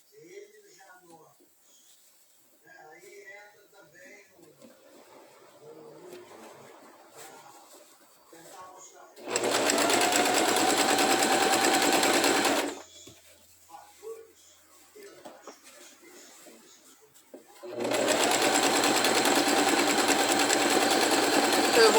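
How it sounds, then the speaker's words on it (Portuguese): Sewing machine stitching a seam in two steady bursts of a few seconds each, loud and close, with quiet talk in between. "Ó, e vai embora costurando"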